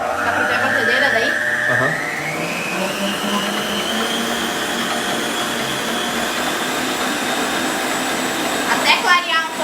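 An electric mixer beats icing sugar in a pastry class, a loud continuous whine that rises in pitch as it speeds up, then holds steady. Faint voices talk underneath it.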